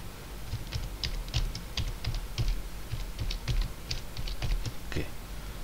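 Keys tapped on a computer keyboard while entering a password during an Ubuntu 20.04 Moodle server installation, with rapid irregular clicks that continue throughout and a person speaking over them at times.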